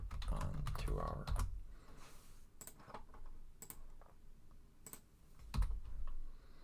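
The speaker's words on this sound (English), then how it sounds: "Wow, I can't type today." Quiet clicking of computer keyboard keys in uneven bursts of typing, with someone speaking intermittently over the keystrokes.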